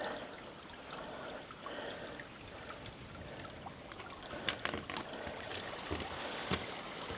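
A small stream flows at the source of the Łyna river, a faint, continuous trickle and burble with occasional soft splashes and clicks, heard alone without voices.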